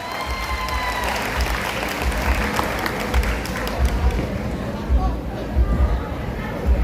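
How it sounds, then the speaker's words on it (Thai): Steady applause from an audience at a scholarship presentation in Bangkok, with a crowd clapping continuously, some chatter and brief cheering mixed in. "เสียงปรบมือดังท่านครับ"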